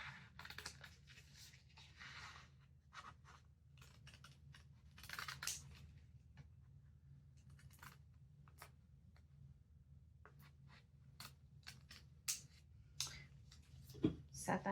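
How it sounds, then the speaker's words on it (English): Scissors snip out a small gingerbread-man craft transfer, giving a run of faint, irregular close-up cuts and rustles over a low steady hum. "So we'll cut this out."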